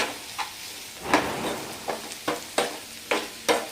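A spoon stirs a ginger garlic paste mixture for veg manchurian in a pan, making a series of regular scraping strokes over a faint steady sizzle.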